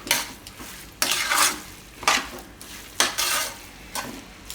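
Thecha chowmein is stirred in a pan with fresh green coriander: five or six rhythmic scraping strokes about a second apart, close and clear, with a light sizzle between them.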